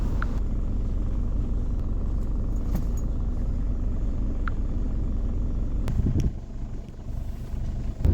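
A car on a ride-share trip toward Cantonment in Dhaka, its steady low engine and road rumble filling the cabin, with a brief louder thump near the end.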